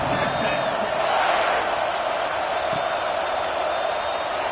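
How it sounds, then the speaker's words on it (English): A football stadium crowd buzzes after a Texas vs Ohio State touchdown, making a loud, sustained roar that swells early and then holds steady, with a broadcaster's voice talking over it. "this crowd is buzzing after that last score"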